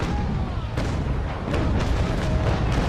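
Cannon broadside from a sailing warship in the naval combat game Naval Action, heard as deep, heavy booms rolling together over a continuous low rumble, with no talking.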